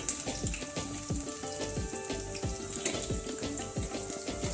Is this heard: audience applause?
no